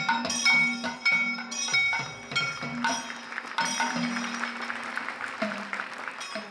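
An audience claps after a Kathakali performance of Nalacharitham with Damayanti on stage, the applause uneven and fairly faint with scattered bright clinks, fading out over several seconds.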